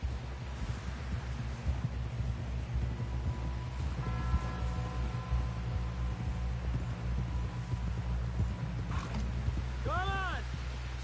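A horse's hooves clip-clop in Red Dead Redemption on PS5, a steady, fairly quiet rhythmic clatter running under a low hum and faint tonal game sounds for the whole stretch.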